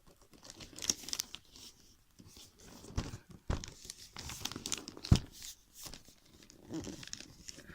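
Glossy Marvel-themed Christmas wrapping paper being handled indoors, giving close, intermittent crinkling and crumpling rustles in short bursts with a few sharper crackles and brief quiet gaps between.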